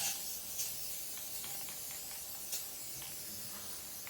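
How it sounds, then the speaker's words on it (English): A steady hiss of spray paint runs throughout, with a few brief louder bursts. No one speaks. "just shake this up and give these a quick spray"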